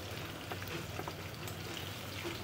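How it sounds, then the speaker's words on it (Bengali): Pieces of rohu fish fry in hot oil in a pan, giving a soft, steady crackle and light sizzle at a low level with no talking. "এখানে মাছটাকে কিন্তু আমি মিডিয়ামভাবেই ভেজে নেব।"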